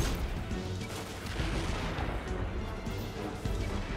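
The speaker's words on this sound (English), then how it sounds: "that's a grenade" A grenade blast in the shooter video game Destiny 2, set in a dense, continuous wall of loud combat noise with booming impacts and gunfire-like bursts throughout.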